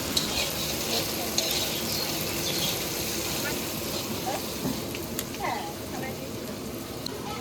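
Onion with turmeric fries in a pan, giving a dense, steady crackling sizzle close up, with occasional soft stirring scrapes throughout.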